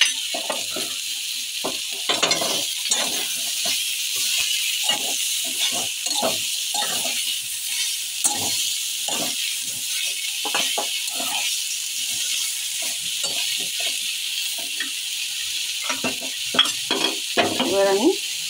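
Garlic sizzles steadily in hot oil in a pan, stirred with repeated scraping strokes of a utensil against the metal, close and loud throughout.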